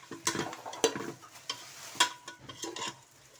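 Yogurt being stirred into mutton qorma in a pot, with soft scraping and wet stirring strokes and faint sizzling, repeated irregularly and fairly quiet.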